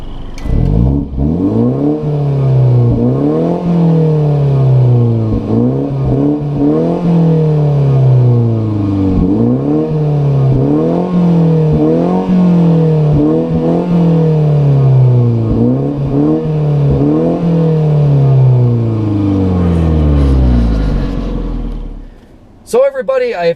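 A 2018 BMW 330i xDrive with a four-cylinder turbo engine and a quiet exhaust drones through about ten rising and falling rev sweeps in a steady rhythm, loud and close, before the sound fades out at the end.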